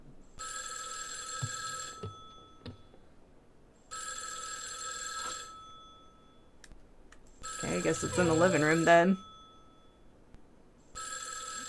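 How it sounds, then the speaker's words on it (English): An old telephone rings loudly in the video game Spirit Hunter NG, giving repeated long electronic bell bursts separated by pauses, with someone talking over the gap between rings. "Suddenly, the phone rings loudly."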